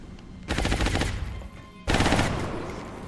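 Two loud bursts of rapid automatic gunfire ring out in XCOM: Enemy Unknown, each a dense rattling volley lasting about a second with a short pause between them.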